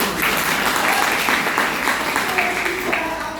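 A crowd at an education seminar gives loud, sustained applause, with excited voices cheering over the clapping throughout.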